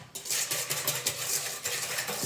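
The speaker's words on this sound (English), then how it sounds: "So we're gonna whisk all of that in together," A whisk beats a yeast and sugar mixture in a bowl, making quick rhythmic scraping taps against the sides, about four strokes a second, close and moderately loud.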